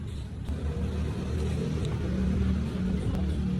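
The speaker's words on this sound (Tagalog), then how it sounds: "Mga sasakyan." Road traffic passes outside during a grilled-food meal, heard as a continuous low rumble of car engines at moderate loudness, with no clear talk over it.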